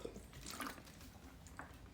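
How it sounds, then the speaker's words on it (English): Someone takes a sip of water, a very faint, brief wet slurp and swallow heard alone in a quiet room. "I need a sip of water."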